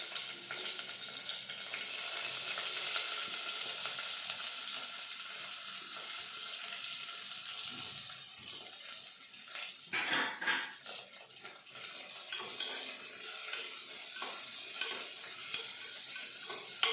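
Onions and green chillies sautéing in a pan for village-style tomato rice, a steady close sizzle with stirring and scraping, then sharper clinks and knocks of the utensil against the pan toward the end.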